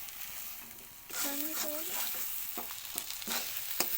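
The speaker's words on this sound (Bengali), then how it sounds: "ময়দা বেসনের মিশ্রণটা দেবেন তো এটাকেও আমাকে কিন্তু বেশ ভালো করে কষাতে হবে" Vegetables coated in a flour and gram flour mixture sizzle in a pan after a quiet start, with a ladle scraping and stirring in repeated close strokes and a brief squeak.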